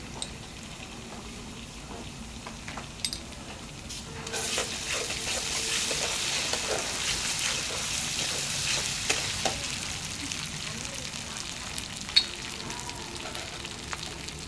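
Ginger-garlic paste fries in a pan for potato dum with a continuous crackling sizzle that swells louder midway, broken by occasional scraping stirs and clicks of a utensil.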